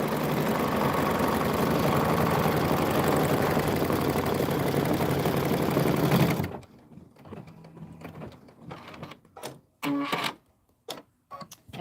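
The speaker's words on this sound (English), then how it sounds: "And we're done stitching." A sewing machine runs a continuous close motor whir for about six seconds while stitching a fabric mug rug, then stops abruptly, leaving quiet handling clicks and taps.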